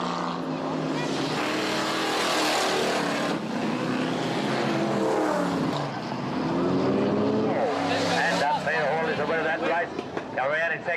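Race cars roar past at a track meeting held by miners, engines rising and falling in pitch as they sweep by at high speed, with a commentator talking over the din.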